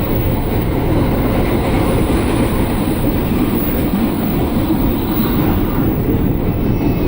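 An 8-car KRL commuter electric train, a JR 205 series, running on the Bogor–Jakarta line, gives a steady loud rumble with wheel and track noise, continuous and close with no talking.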